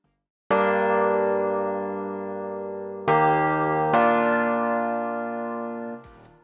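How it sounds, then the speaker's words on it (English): Korg M1 synth chords, three bell-like stabs struck alone with long ringing decays and a slight echo, loud and close, the last cut off abruptly. "There's one synth chord sound."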